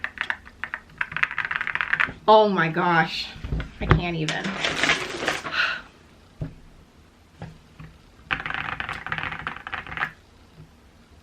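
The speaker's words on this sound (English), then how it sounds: "what sold me was the sound that the keyboards make" A YUNZII C75 mechanical keyboard is typed on in bursts of rapid clacking keystrokes, with an excited voice talking briefly between the bursts.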